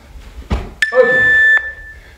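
A short thump is followed by a clear electronic workout timer tone that holds for under a second and stops, with quiet room noise around it, during a home full-body exercise session.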